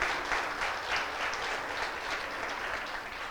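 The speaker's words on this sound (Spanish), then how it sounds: "Aplauda el reino de Dios en la tierra" A church congregation claps together in a sustained, even burst of applause lasting a few seconds, moderately loud and filling the room without voices on top.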